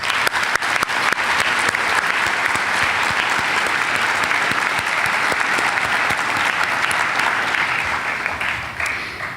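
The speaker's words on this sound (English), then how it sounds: "I ask that everyone join me in applauding these wonderful people" A graduation audience at Windber applauds its teachers, a loud, dense wall of clapping from a large crowd that holds steady for several seconds before easing off slightly at the end.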